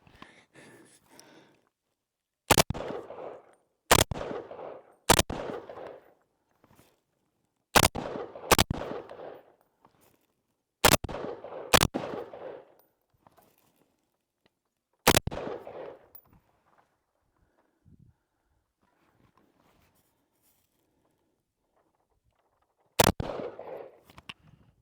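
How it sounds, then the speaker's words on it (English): Rifle shots from a Scar 17 while zeroing an EoTech optic, about nine sharp, loud cracks at irregular intervals, each followed by a short echoing decay, with quiet gaps between and no talking. "just want to go ahead and just try a couple of rounds through it"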